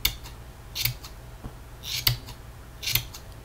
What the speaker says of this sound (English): Just snip until it's the desired size